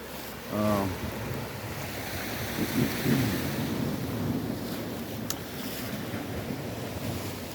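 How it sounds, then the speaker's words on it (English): Ocean waves crash against a coral reef at a Jamaican seaside resort, a constant, rushing surf roar with wind buffeting the microphone, and faint voices briefly rise in the background. "I love to hear the water crash up against it."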